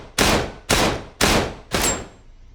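Four loud, evenly spaced pistol shots from a 1911, each a sharp close crack with a short tail.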